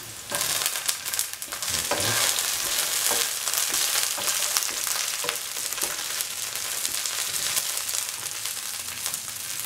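Red and green chilies go into a hot pan for a curried seer fish and mango stew, giving a loud, steady sizzle with frying crackle and a few stirring knocks throughout, no voices.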